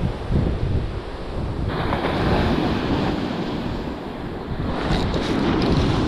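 Strong west wind buffets the microphone on a New Jersey beach during fall surf fishing, a continuous loud roar mixed with breaking surf and no speech.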